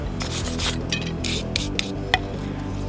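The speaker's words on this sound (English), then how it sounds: "we're just going to brush that out, make sure there's nothing in there" A wire brush scrubs over a forge-weld joint in metal in quick, uneven rasping strokes, with a few sharp scraping accents, close and fairly loud.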